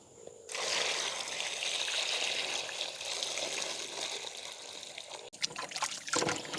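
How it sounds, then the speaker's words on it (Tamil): Peeled cassava is washed by hand in water, a close trickling and sloshing that runs steadily before giving way to a few splashes and knocks near the end. "இனி நாங்கள் கழுவி எடுக்க போகிறோம்"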